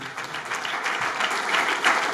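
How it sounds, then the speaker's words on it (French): An audience at a family celebration applauds for a couple's late parents, a dense, steady wash of many hands clapping at once, fairly loud and sustained with no voices over it. "On les applaudit très fort."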